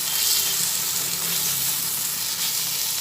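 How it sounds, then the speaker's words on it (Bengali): Curry with Kashmiri chili powder frying in a pan, a dense, steady hiss of sizzling oil close up over a short stretch, with faint stirring and no speech. "কাশ্মীরি লঙ্কার গুঁড়ো দিয়ে আবার ভালোভাবে সব নাড়াচাড়া করে নিই"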